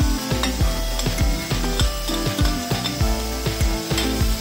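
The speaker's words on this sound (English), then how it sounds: "while continue stirring cook it for 3 minutes on medium flame" Ladyfinger (bhindi) fries in a pan on a medium flame while a spatula stirs in quick rhythmic scrapes and knocks over a loud, close sizzle.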